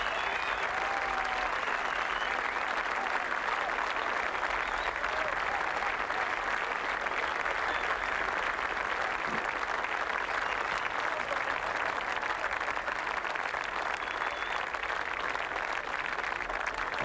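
Sustained applause from a golf tournament gallery around the green at Kooyonga in 1997, a steady broadband clapping wash throughout at moderate distance with no voices standing out.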